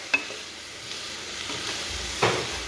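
Salted food frying in a wok gives a soft, low sizzle. A few sharp scrapes and clacks from stirring stand out, with the loudest near the start and again near the end.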